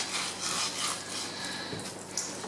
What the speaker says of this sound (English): just with a sawing action back and forth while hanging onto the skin